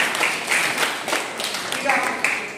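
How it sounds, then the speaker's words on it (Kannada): Schoolchildren applaud in a classroom quiz contest, a dense wash of many hands clapping at moderate distance for a couple of seconds, with voices mixed into the din. "ಚಪ್ಪಾಳೆ ಹೊಡಿಬೇಕು"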